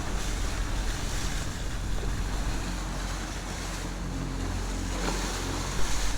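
Sailboat out at sea on an ordinary calm day, with continuous wash of waves and rushing wind buffeting the microphone, a steady broadband roar with a brief louder gust near the end.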